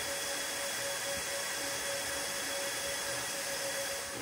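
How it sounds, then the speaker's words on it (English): Loud cooling fans on a fast 3D printer give a steady, dense broadband whoosh with a faint constant whine, unbroken throughout and with no voices. "If there would be only the original audio recording, you'd listen to fans only."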